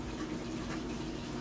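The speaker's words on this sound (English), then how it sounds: "Hot water flow." Hot water rushing through household pipes, a steady close hiss and gush of flow lasting the full moment.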